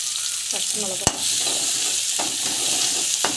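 Onion, green chili and mustard seeds sautéing in hot oil in a pan, a steady close sizzle and fry with scraping stir strokes, while a voice speaks briefly.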